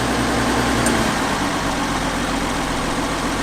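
An old abandoned farm tractor's engine idles at close range, a steady loud rumble that holds even and unbroken throughout.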